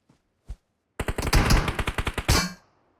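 MG3 machine gun fire from a mobile shooter game on an iPhone 11: a fast, loud burst of about a dozen rounds in quick rhythm, after two single shots, then a short ringing tail.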